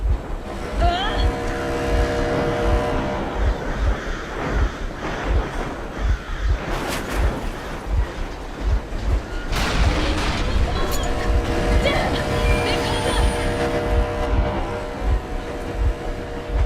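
A vehicle engine idles and rumbles steadily in Metro Exodus, a low continuous drone with a pulsing throb, under a loud voice speaking and with wind-like noise over it.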